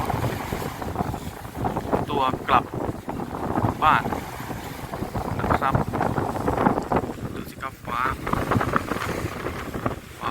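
Strong wind gusts across the coast during shore fishing, a steady loud roar and buffeting against the microphone that runs the whole time beneath someone talking.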